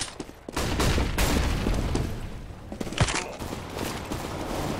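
Competitive shooter game combat with a sharp flashbang blast and rapid gunfire bursts, loud and dense, several sharp cracks layered over a rumbling backdrop.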